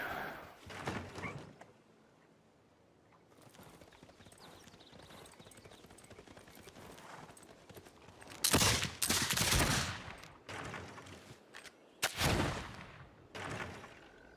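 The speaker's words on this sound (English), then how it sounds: "That cavalry and that field cannon are just duking it out down there." Cavalry clashing with a field cannon in the strategy game Civilization VI: hoof clip-clop and galloping near the start, then loud bursts of gunfire and cannon blasts around the middle and again near the end.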